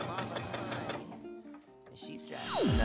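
A sewing machine stitches a T-shirt's side seams in rapid mechanical bursts, pauses briefly, then whirs again with a rising whine at the end.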